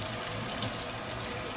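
Tap water runs steadily into a sink while collard greens are washed, a continuous broad rushing hiss with no talking.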